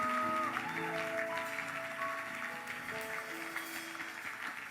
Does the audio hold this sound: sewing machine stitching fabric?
no